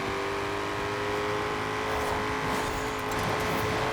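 Koenigsegg Jesko hypercar engine in Forza Horizon 4, a steady loud drone with a rising rev toward the end, continuous and close, with no talking.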